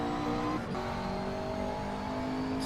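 A race car in the Assetto Corsa racing game at full throttle on the start-finish straight at Sebring International Raceway, giving a steady, loud engine drone with a held pitch throughout.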